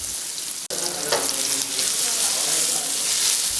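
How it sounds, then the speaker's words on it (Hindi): Thinly sliced onions fry steadily in a pan for Indian aloo matar, a continuous close sizzle with a brief dropout near the start and a short stir partway through. "ये 2 ऑनियन को हमने पतला पतला स्लाइस कर लिया है, उसे डालकर ब्राउन कलर आने तक भुनेंगे"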